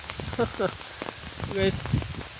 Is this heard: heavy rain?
yes